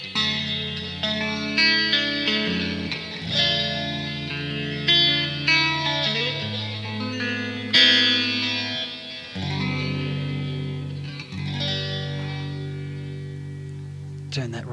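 Electric guitar through phaser, reverb and delay effects, a run of strummed chords and ringing notes repeating and trailing into echoes, loud and steady without talk.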